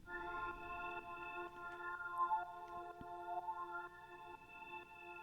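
Sustained synth pad from a native FL Studio plugin preset, a soft, steady chord of held tones with gentle shimmer, faint and alone without any talk.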